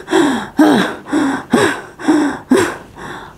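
A storyteller's voice imitates heavy panting, six sharp gasping breaths in a steady rhythm, loud and close, with no words spoken.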